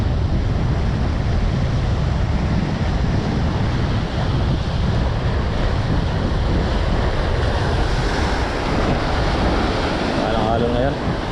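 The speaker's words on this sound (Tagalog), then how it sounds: "Lakas ng alon." Strong surf pounds the shore in bad weather, a constant loud roar of breaking waves mixed with heavy wind buffeting the microphone, with voices talking beneath it.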